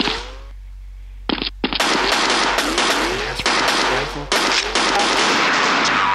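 Rapid bursts of DMR rifle gunfire in the mobile shooter Special Forces Group 2, loud sharp cracks firing in quick clusters after a brief quiet start, with no talk over them.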